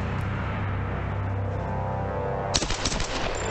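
Gunfire from an extended-magazine weapon in Tomb Raider (2013) bursts out after a steady background hum, giving a short, loud, rapid string of close shots near the end with no voices.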